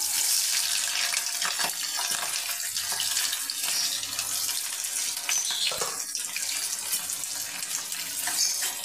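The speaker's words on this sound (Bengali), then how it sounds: "তেলটা আমার গরম হয়ে গিয়েছে, এর মধ্যে আমি পেঁয়াজ আর এই কাঁচা লঙ্কাটা দিয়ে দেবো" Onion and green chili dropped into hot mustard oil in a pan as onion-prawn curry is cooked, giving a steady bright hissing sizzle throughout, fairly loud and close, with no talking.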